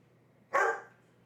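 A single sharp bark from a pet dog, Puppy Plasm, heard indoors at moderate distance against a quiet room hum.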